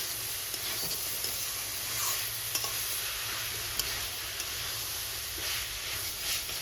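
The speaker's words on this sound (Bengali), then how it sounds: "মিডিয়াম টু হাই ফ্লেমে মোচাটাকে কষে কষে রান্না করে নিতে হবে" Banana flower stir-fries dry in a pan over a medium-high flame, an even hissing sizzle with occasional faint stirring ticks, no water added and no talking.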